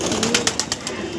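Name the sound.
pigeons cooing, Kalanka pigeons for sale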